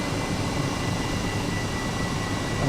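An Airbus H135 helicopter in flight within Microsoft Flight Simulator, giving off a steady, unbroken turbine and rotor drone that holds at an even, fairly loud level throughout.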